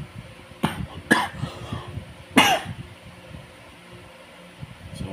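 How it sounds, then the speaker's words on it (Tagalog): Three sharp coughs close to the microphone, two in quick succession then one more a second later, over a low steady background hum. "sorry, inuubo lang talaga ako."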